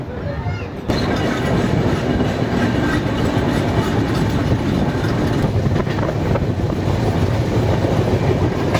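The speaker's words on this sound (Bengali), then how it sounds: "1 মিনিট হল্ট করার পর ছেড়ে দিচ্ছে আমাদের ট্রেন দীঘার উদ্দেশ্যে।" Tamralipta Express train pulling out of a station on the Howrah to Digha run, with loud steady rumbling and rhythmic clattering of the wheels on the track that builds and continues throughout.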